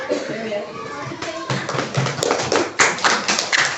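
A class of children clapping hands for a classmate during a lesson, a burst of quick, uneven claps after some talk, fairly close and lively.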